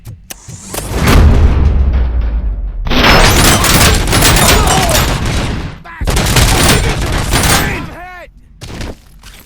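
Bursts of rapid gunfire from the video game RoboCop: Rogue City crackle loudly through the clip, with explosive booms and brief gaps between volleys.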